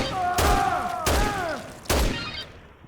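Heavy machine gun fire in Dead Rising comes as three loud, separate booming bursts, each trailing off into ringing debris and echo.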